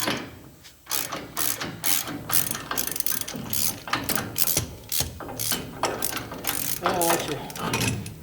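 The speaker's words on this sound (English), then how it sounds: "put your ratchet on it, shove it all the way till you hit" Ratchet clicking rapidly as it tightens a bolt through a Jeep CJ leaf spring bushing, a dense run of loud, close metallic pawl clicks in repeated bursts with brief pauses between strokes.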